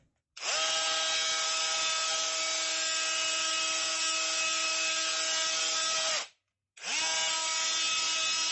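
A 5-in-1 multi-head electric screwdriver runs at high speed with a loud steady whine, sanding a piece of wood, cutting out briefly before starting up again, with no talk over it.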